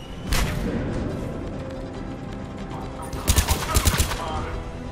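Gunfire from Mass Effect 3 during a firefight at the salarian base on Sur'Kesh, a steady battle din capped near the end by a rapid run of loud, punchy automatic shots.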